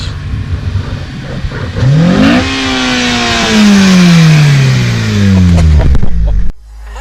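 An 8th-generation Honda Civic Si accelerates hard nearby, its engine climbing through a loud rising rev, then a gear change and a falling pitch as it pulls, before cutting off abruptly near the end.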